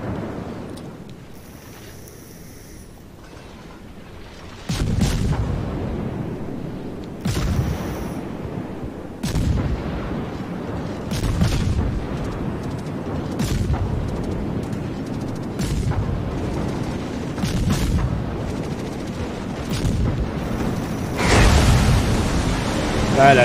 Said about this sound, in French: je tire sur un ennemi qui ne peut pas beaucoup se défendre